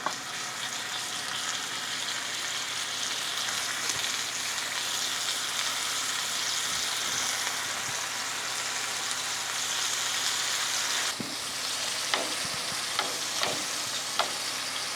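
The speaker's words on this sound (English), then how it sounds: "we're getting a little smoke on this tallow right now, so we're ready to go in" Beef tenderloin searing in smoking-hot beef tallow, a steady loud broadband sizzle running throughout, with a few sharper pops and spits near the end.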